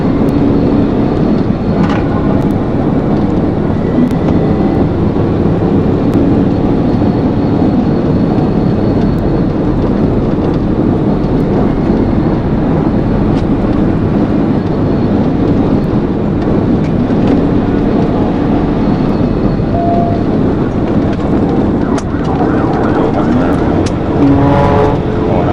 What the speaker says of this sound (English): spotted the car roaring past the exit 36 overpass